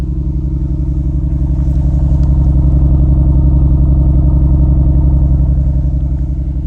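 A Nissan Skyline's engine idles steadily after a battery jump, a loud, close, even rumble with a regular pulsing beat and no voices.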